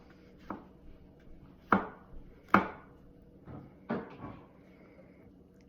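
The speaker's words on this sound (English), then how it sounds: "I'm just going to run my knife through them to chop them" Kitchen knife chopping washed vegetables on a board into small pieces, heard as a handful of separate sharp knocks spaced irregularly, fairly close and clear, with no talking.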